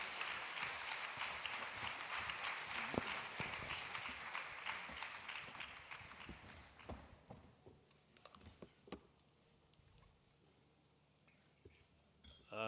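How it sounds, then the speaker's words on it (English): Audience applause fills a Women's Day banking conference hall, dense and steady for about seven seconds before thinning into scattered claps and quiet room noise, with a brief swell at the very end. "Keep the applause coming until he gets on stage."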